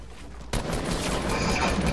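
Rapid video game gunfire bursts in, loud and dense, after half a second of quieter background, continuing as a sustained fusillade to the end.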